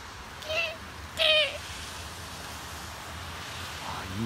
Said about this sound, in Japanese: 聞こえますか、この小鳥の声が。